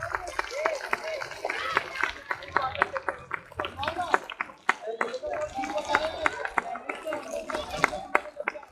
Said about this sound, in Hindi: जोरदार तालियां होनी चाहिए बच्चों,